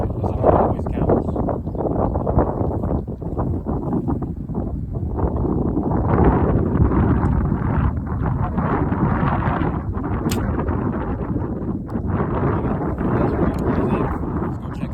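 Strong wind buffets the microphone at an outdoor archery range, a heavy, uneven low roar that gusts and swells, with someone speaking over it.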